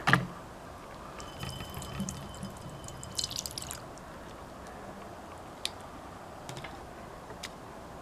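Soft hydrogel beads gurgle and drip in water in a bowl, with scattered small wet ticks and plops over a quiet background, faint and intermittent.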